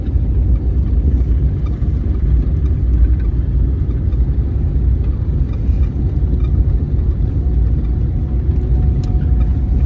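A car moves very slowly along a road at night, a steady low engine rumble and road hum heard from inside the vehicle, continuous and even with no talk.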